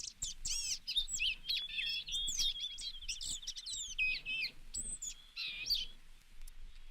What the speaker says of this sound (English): blue-gray gnatcatchers are really wacky